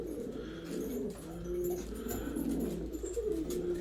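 Filo Elvan pigeons feeding give soft, low, repeated coos that overlap and roll on steadily, fairly quiet and nearby with no talk.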